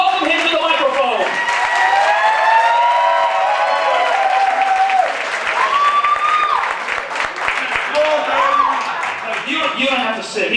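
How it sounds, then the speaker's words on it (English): An audience applauds at a live show, sustained clapping with scattered cheers and voices calling out over it, loud and close throughout. "give him a round of applause to stir up his creativity"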